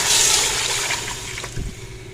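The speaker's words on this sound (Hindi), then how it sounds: "अब हम सबसे पहले तो इसमें डाल देंगे पानी" Water is poured into a cooking pan while making achari daal, a steady splashing rush that eases into a lighter trickle near the end.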